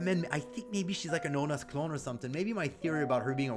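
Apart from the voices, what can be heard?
None of the usual background noises is heard.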